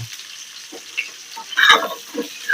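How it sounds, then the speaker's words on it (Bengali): Potatoes fry in a pan with a steady close hiss, and the sizzle swells into a louder crackling burst as they are stirred, with no talk. "আলু ভাজা হবে আলু ভাজা আমার ছেলেদের জন্য"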